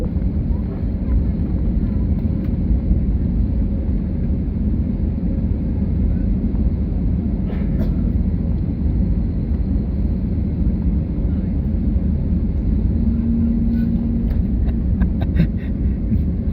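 A Spirit Airlines airliner pushes back from the gate, heard from inside the cabin as a steady, loud low hum and rumble of engines and air systems, unbroken throughout.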